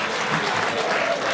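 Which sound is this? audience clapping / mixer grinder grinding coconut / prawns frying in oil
audience clapping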